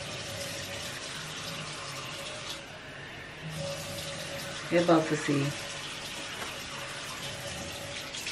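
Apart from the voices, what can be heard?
water running from a tap into a container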